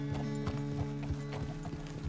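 Horse hooves clip-clop in a steady walking rhythm in the video game Red Dead Redemption 2, close and clear over a sustained tonal background with no talking.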